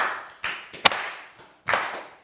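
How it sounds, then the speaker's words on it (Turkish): Audience on the Turkish TV word game show Kelime Oyunu gives a thin, halfhearted applause: a few separate bursts of clapping, nearby and moderate, with pauses between, and no talk. "Üzgün alkışı hiç hak etmemiştik."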